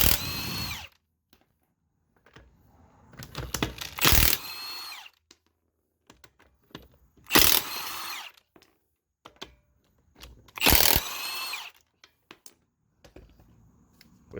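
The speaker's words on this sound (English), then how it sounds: "I'm going to use this battery impact." A battery impact wrench removes lug nuts from a Jeep Renegade wheel in loud, close bursts of rapid hammering. About four separate runs are spaced a few seconds apart, with quiet handling noises between them.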